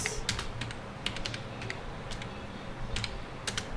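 Rapid, irregular keystrokes on a computer keyboard while an online job application form is filled in, with close, crisp clicks in short bursts and brief pauses over a quiet room.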